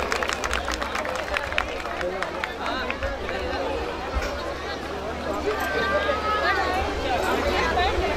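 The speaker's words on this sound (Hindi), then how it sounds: "ये जोरदार तालियां भी बजा दें जो पेरेंट्स बैठे हुए हैं इन बच्चों के लिए" Parents in the audience clap for the children at the Swatantra Disha Prathibha Award 2016 ceremony, a steady wash of crowd clapping and chatter filling the hall throughout, with a voice speaking over it.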